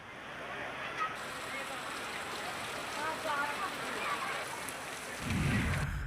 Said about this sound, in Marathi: नांदेडच्या किनवट तालुक्यामध्ये आज मुसळधार पाऊस बरसलाय।